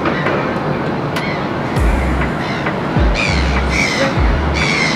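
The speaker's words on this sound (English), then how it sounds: "And so many seagulls." Seagulls squawk repeatedly over a steady outdoor city background in Cape Town, with several loud, harsh calls arriving in quick bursts close by.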